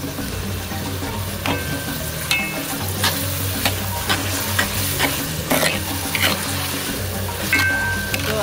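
Potatoes fry in a pan for an African grandmother's recipe, with a loud steady sizzle broken by frequent sharp scrapes and clatters of stirring, close and with no voices.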